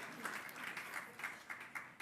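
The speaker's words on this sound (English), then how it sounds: "Can we please get another round of applause?" Faint audience applause at a small enterprise awards ceremony, a steady patter of clapping with a few louder claps standing out, heard from a distance.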